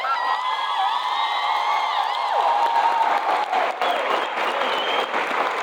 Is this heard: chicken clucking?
no